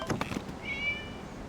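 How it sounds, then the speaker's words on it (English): A single short cat meow rises briefly over a quiet background in Genshin Impact, following a few soft thumps at the start. "It was just a cat."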